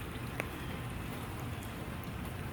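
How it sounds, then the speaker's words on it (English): Heavy rain falls outdoors in Houston as a soft, steady hiss of drops on surfaces, even and continuous throughout, fairly faint and with no voices. "It's raining too hard."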